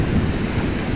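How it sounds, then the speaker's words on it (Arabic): Sea waves wash onto the beach at Sidi Kaouki in Morocco, a loud, continuous broadband rush mixed with wind buffeting the microphone. "جمالية البحر"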